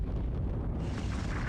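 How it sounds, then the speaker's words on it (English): An explosion from the video game Lunar 2: Eternal Blue: a deep, rumbling roar with a noisy low-end wash that sustains rather than cutting off sharply. "An explosion."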